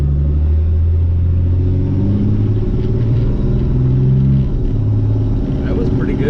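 Truck engine pulls low and steady on a rainy day after a Lucas transmission treatment, revving and then dropping as it shifts from first into second gear, with a constant rumble throughout and a voice speaking over it.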